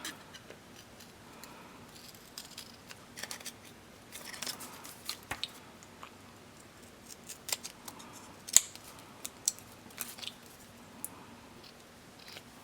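Scissors snip through paper planner pages in a quiet series of short, crisp cuts spread across the stretch, with small rustles and clicks of the blades between them.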